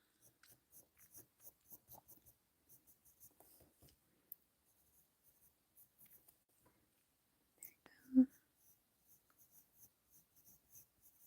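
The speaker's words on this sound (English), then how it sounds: "Just sketching a little" A pencil sketching on a page: soft, faint scratchy strokes in short repeated bursts, with a sharp brief tap partway through, recorded close and quiet.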